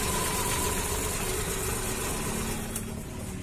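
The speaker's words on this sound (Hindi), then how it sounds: "बंद करके स्टार्ट करो गाड़ी" A Maruti 800 car engine, freshly tuned after an ignition coil repair, runs at a steady idle close by, a continuous even hum with no talk over it.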